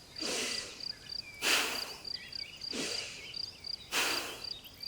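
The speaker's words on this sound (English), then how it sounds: "strong, forceful and equal inhales and exhales through the nose" Forceful breathing through the nose, four strong airy breaths in an even rhythm, close and alone, alternating inhale and exhale.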